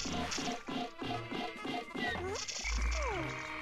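A frog enemy in the video game Pikmin croaks in a quick rhythmic series of close, throaty calls, then gives way to rising and falling game tones and a low thump.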